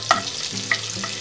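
Butter melting in leftover oil from frying paneer for Afghani paneer gravy gives a brief, faint sizzle with a couple of light utensil clicks.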